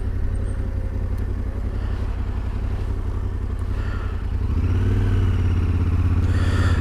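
A Yamaha Tenere 700 motorcycle rides through a town high street in Fife. Its engine gives a steady, loud, close rumble that rises slightly in pitch as it accelerates toward the end, with wind and road noise mixed in.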